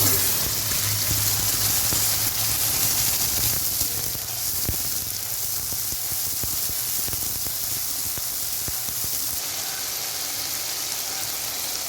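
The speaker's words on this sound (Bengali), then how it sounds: "ভালো করে নেড়ে দেব বেটে রাখা মশলাগুলো" Ground spice paste being stirred into frying onions and cumin-tempered oil in a pan for soya egg biryani, giving a steady, close hiss and sizzle with scattered light scraping clicks.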